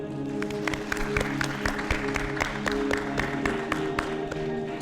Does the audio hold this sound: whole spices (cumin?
no